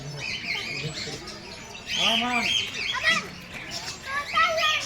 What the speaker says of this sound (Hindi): कितने सारे चिड़िया है, देखिए बहुत सारा चिड़िया है